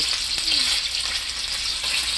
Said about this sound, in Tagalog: siya din nagpiprito